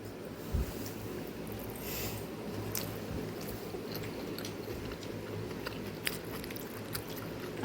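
Close, wet chewing of fried rice goes on steadily with soft squishy bites and an occasional louder crunch or click.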